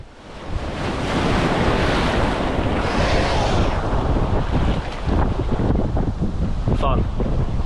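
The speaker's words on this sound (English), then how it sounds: "giant waves that are approaching" Large ocean waves roll in and break on a beach in Lombok, a continuous loud roar of surf with hissing spray and strong wind buffeting the microphone.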